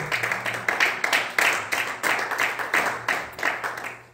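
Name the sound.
congregation applauding during a sermon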